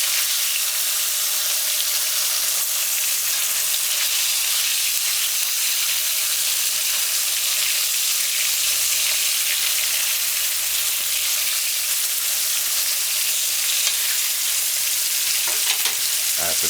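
Coconut-coated fish frying in a hot pan, a steady dense sizzle of oil running evenly and fairly loud throughout, with no voices.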